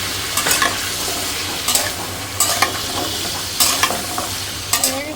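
Ground spices being stirred into food frying in a pan with meat, cumin and garam masala going in, steady sizzle broken by several sharp scraping strokes of a spoon against the pan.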